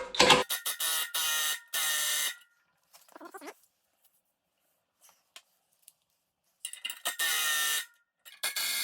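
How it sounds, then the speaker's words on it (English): Puller being tightened to draw an HVAC exhaust blower wheel off its motor shaft, with bursts of metallic ratcheting and clicking separated by near-silent pauses. "as you tighten this down, the claws at the bottom are pulling this blower wheel up"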